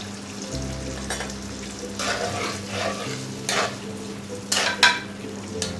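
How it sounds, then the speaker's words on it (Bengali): Prawns stirred and fried in a spiced masala for lau chingri, a steady sizzle under repeated scraping stir strokes, with several louder clattering bursts near the end and no talk. "এখন চিংড়ি মাছটা দিয়ে দিব।"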